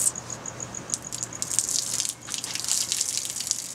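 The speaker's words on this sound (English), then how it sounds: "Always pour off the front, do your little pinky scrape" Water is poured off the front lip of a gold pan while panning heavy minerals and zircon, giving a light irregular splashing and trickling, close and moderately loud, with a faint steady high-pitched tone and low hum beneath.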